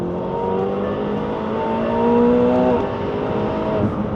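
A McLaren 720S on a circuit in Dubai pulls hard at full throttle, a loud, steady engine note with rising gear-driven tones that climb and then drop around a shift, close and continuous without talk.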